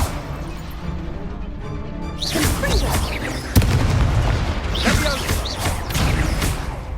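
Confringo fire spell explosions in the video game Hogwarts Legacy on PS5, loud booming blasts and crashes amid battle effects and character voices.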